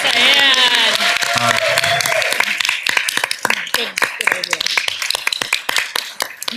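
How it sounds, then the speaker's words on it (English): Conference audience applauding a woman asked to stand, clapping in a dense burst that thins into scattered claps, with a voice and tonal sound over the start and talk mixed in. "can we give her a round of applause for?"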